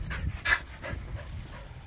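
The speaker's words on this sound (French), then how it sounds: "le chien qui nous fonçait dessus" A dog gives brief whimpers and panting outdoors by a lake, moderately close, over a low background rumble.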